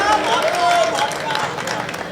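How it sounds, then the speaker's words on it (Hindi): Audience at a Hindi kavi sammelan poetry recital bursting into dense, loud clapping throughout, mixed with cheering voices and crowd noise. "अब जो चूक गए वो अब के ताली बजाए"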